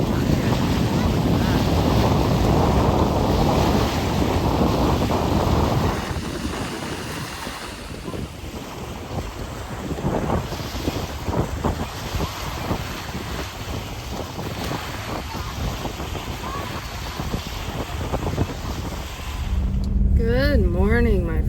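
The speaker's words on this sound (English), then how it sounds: "Depending on how loud this wind is, I might just play this without sound." Strong wind at a lake buffeting the microphone in loud, continuous low rumbling gusts, easing briefly midway and surging again near the end, with a voice talking over it.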